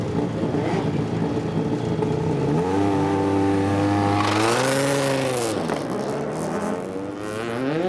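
A racing car accelerates hard on a track at an afternoon Formula race, its engine note climbing and swelling loud and close, then dipping and rising again as it drives on.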